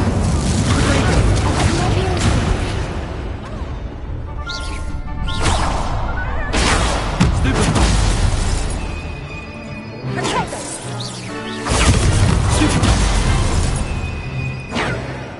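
Loud fiery spell blasts in Hogwarts Legacy combat: repeated booming bursts and whooshes, some crashing impacts, following one another in a dense, noisy stretch.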